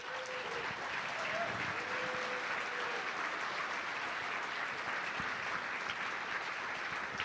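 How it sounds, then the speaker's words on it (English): A gala audience applauds legal aid leaders with sustained, even clapping from a large crowd in a banquet hall, while brief tonal sounds and a voice surface faintly early on. "please, just give one more round of applause for these amazing leaders"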